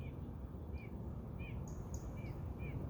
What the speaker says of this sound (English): here these birds go making all this noise